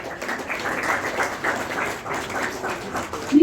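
Audience clapping fills a hall during a youth workshop at IMB Hall, Panjim, a steady crowd applause throughout, moderately loud, with no speech over it.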